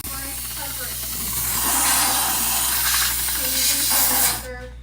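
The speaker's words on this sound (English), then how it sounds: "Got to get it steam going again. Here it comes." A Ladybug 2350 steam cleaner's vapor tool hisses continuously with a strong, loud rush of steam, cut off abruptly near the end.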